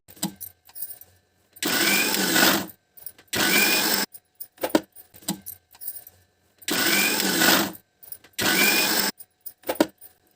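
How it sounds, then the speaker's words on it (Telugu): A mixer grinder grinding tomatoes runs in short loud bursts, four main pulses of whirring roar separated by brief pauses and small clicks. "మిక్సీ పట్టుకునేద్దాం"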